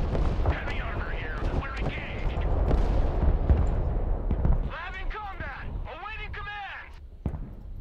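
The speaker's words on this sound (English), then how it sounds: "I hit his tanks with an F-35." An F-35 strike hitting tanks in the Broken Arrow war game, heavy rumbling explosions and artillery-like blasts rolling together, with a voice talking over the battle noise.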